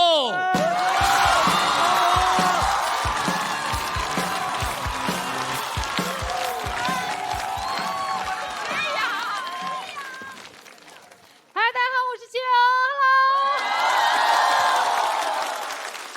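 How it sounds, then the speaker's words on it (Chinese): A stand-up comedy show audience applauds and cheers as a comedian walks onstage, a dense wash of clapping with whoops, then a brief lull and a fresh burst of clapping near the end. "掌声有请七友"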